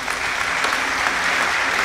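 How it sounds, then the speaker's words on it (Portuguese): A church congregation at a cathedral service applauds, a dense, even burst of many hands clapping that holds steady throughout at moderate loudness. "Meus irmãos, aplaudam ao Senhor Jesus."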